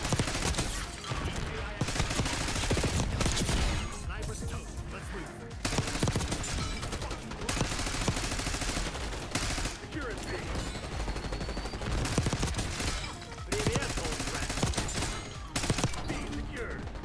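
Sustained bursts of XM4 assault rifle fire in a Call of Duty match, loud rapid automatic shots in long strings with brief pauses, under occasional talk from a player.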